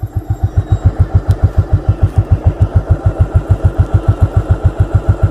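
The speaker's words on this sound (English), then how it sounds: "don't know why the idle goes so low and then goes too high" A 1985 Yamaha Virago motorcycle idles close by with a loud, steady, throbbing pulse, its low idle beating evenly at first and wavering slightly in speed.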